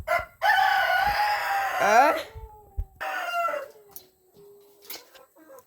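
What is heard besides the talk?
rooster crowing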